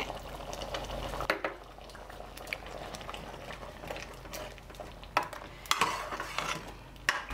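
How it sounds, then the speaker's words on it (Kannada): Brinjal sambar simmering at a boil in a pot, with soft bubbling, a few spoon clinks and scraping stirs against the vessel as tamarind juice and grated coconut go in; close, with no talk. "ನೋಡಿ ಸಾರು ಚೆನ್ನಾಗಿ ಕುದಿ ಬರ್ತಾ ಇದೆ ಒಂದೆರಡು ಸ್ಪೂನಷ್ಟು ತೆಂಗಿನ ತುರಿ ಹಾಕಿದ್ದೀನಿ ಸ್ವಲ್ಪ ಹುಣಸೆ ರಸ ಬಿಡ್ತಾಯಿದ್ದೀನಿ"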